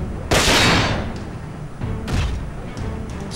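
Gunfire in the Front Mission 4 mech strategy video game: a loud burst of shooting opens, fades, then a second volley follows, close and sharp with no talk.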